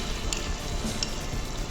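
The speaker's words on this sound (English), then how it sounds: "frying." Food frying in a pan for a Rajasthani gatta curry, a soft, steady, close sizzle with small crackles at a quiet level, no voices.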